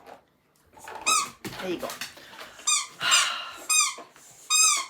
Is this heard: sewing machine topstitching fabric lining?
no